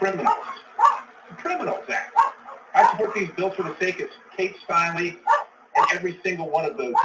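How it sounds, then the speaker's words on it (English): Dogs bark in short bursts in the background of an indoor recording while someone speaks continuously over them, the barks partly masked by his voice. "Sorry about the dogs."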